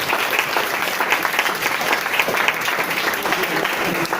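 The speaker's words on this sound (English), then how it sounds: "When you are clapping, clap with the inspiration." Boys and girls at a career mapping session applaud in steady, dense clapping that fills the room loud and unbroken throughout.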